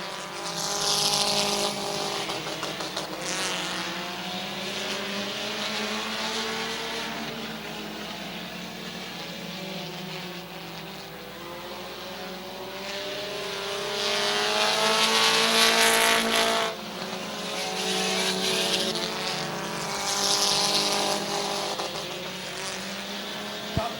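Race cars circle an oval at Midvale Speedway, a continuous loud engine roar that swells and fades as cars pass, with a public-address announcer talking over it.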